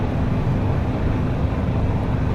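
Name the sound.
race car engine near rev limiter on Nordschleife lap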